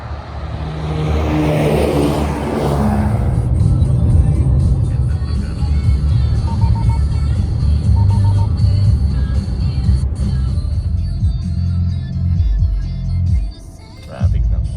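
Road traffic of cars streams past close by as a continuous loud rumble of engines and tyres, with occasional accelerating vehicles and voices speaking over it.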